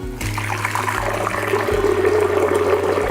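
Around 400 ml of water pours into a blender holding a teaspoon of herbal coffee-substitute powder, giving a close, loud, steady gushing stream that continues without a break.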